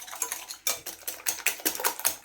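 Orange cake batter being mixed with oil in a bowl, a rapid series of clattering whisk or spoon strikes against the bowl in an uneven rhythm, close and fairly loud.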